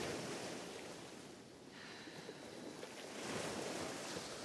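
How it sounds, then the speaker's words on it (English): Ocean surf washes steadily, a soft continuous roar that swells and recedes gently, heard alone in the background of a stretching routine. "Try to synchronize your breathing with the waves."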